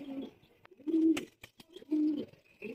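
Pigeons coo in short, clear bursts at close range, several rolling calls separated by brief quiet gaps, with a few sharp knocks between them.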